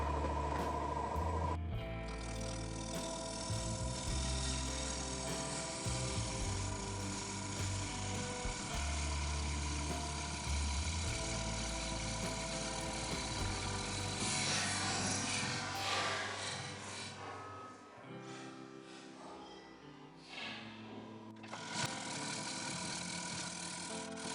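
A wood lathe spins a birch burl bowl at 800 RPM with a loud, steady mechanical drone and rough, uneven rumbling throughout, dipping briefly near the end before resuming.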